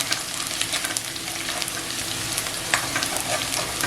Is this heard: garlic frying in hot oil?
yes